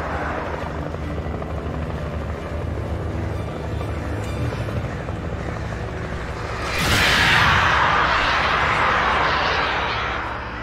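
A helicopter in the video game Alan Wake Remastered drones with a steady rotor rumble, then swells louder and nearer toward the end with rushing wash before easing slightly.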